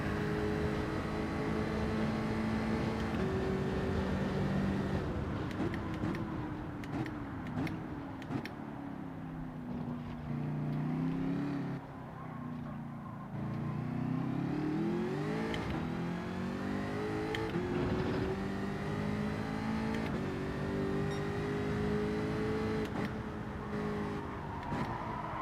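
Race car engine in Gran Turismo 7 lapping the Nürburgring circuit, a steady loud drone rising and falling in pitch through gear shifts and corners, with no talking.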